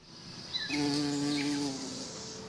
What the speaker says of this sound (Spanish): Los 1000 pequeños insectos participaban, sin duda, de su felicidad, porque su incesante zumbido semejaba una canción